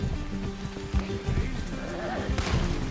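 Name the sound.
horse galloping in video game Red Dead Redemption 2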